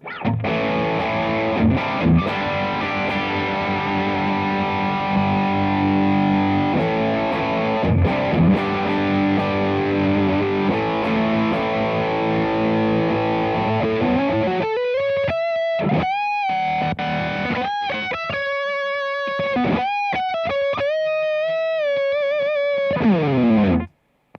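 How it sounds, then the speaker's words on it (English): Heavily distorted electric guitar through a Friedman BEOD distortion pedal plays thick, sustained chords, then switches to choppy, bending lead notes with a gritty overdriven tone. "This is a Friedman BEOD distortion here"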